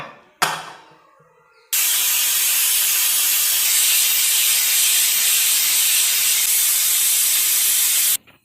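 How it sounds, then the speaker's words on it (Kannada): A pressure cooker whistle vents steam while greens cook for saaru: after a short knock and a quiet pause, a loud, steady, close hiss runs unbroken for about six seconds, then cuts off. "ವಿಜಿಲ್ ಬಂದಿದೆ"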